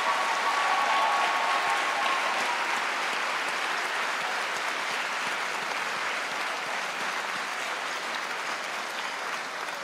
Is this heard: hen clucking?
no